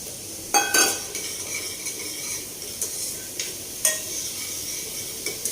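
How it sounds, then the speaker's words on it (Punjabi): Cumin seeds and onion fry in hot oil in a pan, a constant broadband sizzle with a few sharp clinks and scrapes as a spoon stirs, close and fairly loud, with no voices. "ਇਹਦੇ ਵਿੱਚ ਆਪਾਂ ਜੀਰਾ ਪਾ ਲਾਂਗੇ ਜੀਰਾ ਪਾ ਕੇ ਥੋੜਾ ਜਿਹਾ ਆਪਾਂ ਇਹਨੂੰ ਹਿਲਾ ਦਿੰਦੇ ਨਾਲ ਹੀ ਆਪਾਂ ਪਿਆਜ਼ ਪਾ ਦੇਣਗੇ"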